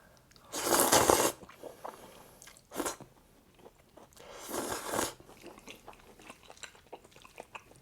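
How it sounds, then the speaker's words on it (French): Chapaguri noodles with meat being eaten up close: broadband bursts of slurping and chewing, a long loud one early, a short sharp one near the middle and another swell later, with quieter mouth noises between and no talk. "pourquoi il aspire comme ça les nouilles? Pourquoi il fait ces bruits comme ça?"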